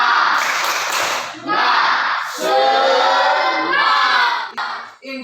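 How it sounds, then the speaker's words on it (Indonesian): A school class joins in the 'tepuk semangat' chant, children's voices shouting together in loud rhythmic bursts with some clapping mixed in, rising and falling over a few seconds. "Ya, tepuk semangat."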